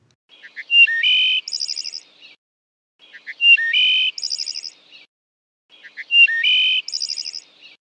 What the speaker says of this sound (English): listen to the song of a wood thrush